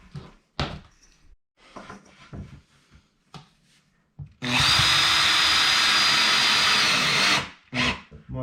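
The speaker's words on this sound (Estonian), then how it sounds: "Ma vaatan, et ma maasse ei puuriks" A power drill boring into wood while a skate ramp is built, a few knocks and handling sounds first, then one loud, steady whirring run of about three seconds, followed by a short second burst.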